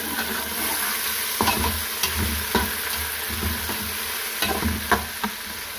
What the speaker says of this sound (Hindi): अब हम इसको फ्राई कर लें।